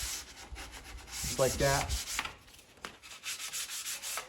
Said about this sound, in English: I'm using this grit grip, and I can just get into those corners really easily